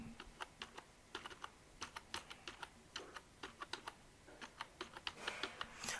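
Domain name typed on a computer keyboard, a close, quiet run of rapid key clicks in uneven bursts with brief pauses, no voices.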